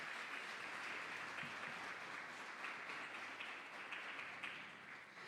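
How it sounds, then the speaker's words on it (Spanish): A church congregation applauds, dense sustained clapping that fills the room and eases off slightly toward the end. "Mantenga ese aplauso."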